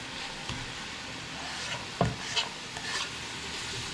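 Chopped garlic cloves fry with mushrooms in a pan, a soft continuous sizzle broken by a few sharp utensil knocks and stirring scrapes, fairly quiet and without speech.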